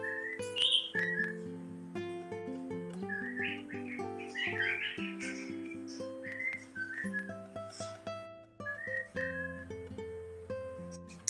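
A cockatiel whistling a tune, played back from a recording held near a microphone; clear melodic whistled phrases with some chirps, continuous and fairly loud.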